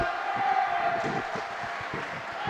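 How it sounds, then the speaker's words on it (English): A crowd at a PIHL Division 2 high school ice hockey final between Beaver and Carrick cheers and roars steadily in an arena, a dense continuous wash of voices with rhythmic thumping beneath. "you hear the crowd getting into it on each side"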